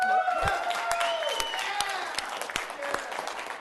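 Scattered handclaps break out at a city council meeting after a vote, sparse and uneven, with a voice talking over them.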